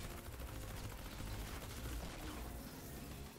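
Silenced Specter gunfire in the Fortnite zombie mode rattles as a continuous, muffled burst of rapid shots that runs steadily for several seconds at moderate loudness, with no talking.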